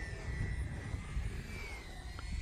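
A repaired E-flite Viper 90mm RC jet flies at quarter throttle, giving a steady, moderately distant whine over low wind rumble, with no talking.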